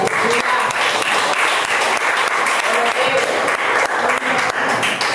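A church congregation claps for several seconds, the applause dense and loud, with a voice speaking over it at times.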